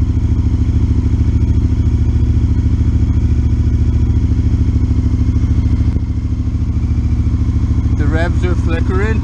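A T7 motorcycle idles loudly up close while warming up, with a suspected faulty O2 sensor making the revs flicker. The throbbing idle stays steady, dips briefly once, and someone speaks near the end.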